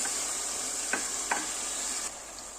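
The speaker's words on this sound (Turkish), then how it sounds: "Şimdi de rendelemiş olduğum domateslerimi ilave ediyorum" Grated tomatoes cooking down into sauce for kısır, giving a steady close sizzle and bubble broken by two soft stirring taps, with no one speaking.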